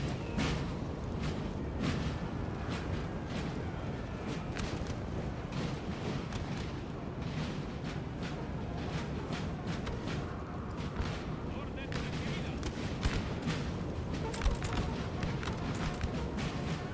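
Artillery in Napoleon Total War, a 4v4 battle across a river, booms in a dense, continuous barrage with scattered sharper shots over a constant rumbling battle din, with a voice talking throughout.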